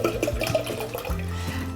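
Half a bottle of soda pours into the water of a flower vase, making a close, continuous gurgling splash of liquid that runs steadily for a couple of seconds.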